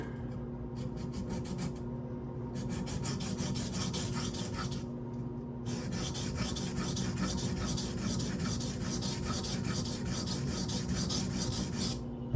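A Protech TR-3 knife with a Magnacut steel blade is stroked across a sharpening stone in steady rasping passes, close and quiet, with short gaps between strokes and no voices.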